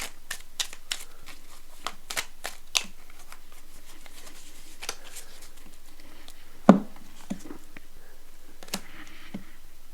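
Cards are drawn from a deck and handled at close range, producing soft, irregular flicks and slides, with one sharper tap partway through, quiet and with no talking.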